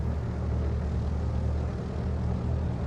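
Aircraft engine in Flight Sim World holding a loud, steady drone with a deep low rumble, continuous and close throughout.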